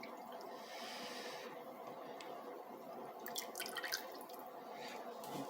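Stock, about 2.5 liters, pouring into a pot of softened vegetables for chicken soup, a continuous liquid rush with splashing and dripping, fairly quiet and close, no talking.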